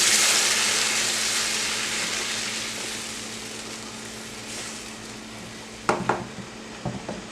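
Blended sauce pours into a pot of browned Spanish rice, setting off a loud hiss and sizzle that gradually fades, followed by a few sharp clinks of a utensil against the pot near the end.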